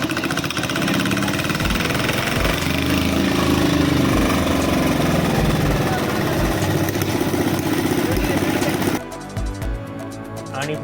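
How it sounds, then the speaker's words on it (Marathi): A generator engine running just after starting, a loud close steady mechanical drone with a rough pulsing rattle that drops lower near the end, voices mixed in. "फायनली जनरेटर चालू झाले आहे"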